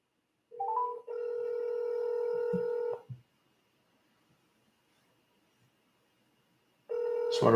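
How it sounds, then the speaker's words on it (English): Telephone ring tones on an outgoing call placed on a second line, two long electronic warbling rings back to back, a pause of silence, then a third ring starting at the end. "So what I'm doing now is calling back on a second line."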